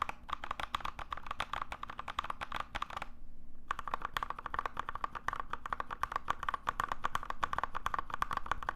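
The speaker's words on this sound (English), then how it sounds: "Here's a quick example of how a tactile key switch sounds compared to a linear one on the exact same keyboard using the exact same keycaps" Fast typing on one mechanical keyboard with the same keycaps, first on tactile switches and then on linear ones, gives dense, crisp clacking keystrokes at close range, split by a brief pause of about half a second, with no talking.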